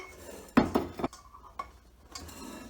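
A metal pie pan for a lemon tart is handled on a counter, giving a few quick clanks and rattles close by before it settles into quiet.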